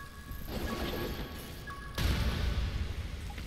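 A bomb fruit exploding in the video game An Elysian Tail, a sudden loud crashing burst that rises sharply partway through and lingers as a rumbling roar, with game ambience underneath.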